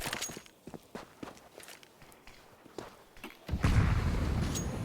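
Grenade blast in Counter-Strike on the Anubis map during a competitive match, a sudden loud burst near the end that rolls into sustained rumble after quieter footsteps and small game noises.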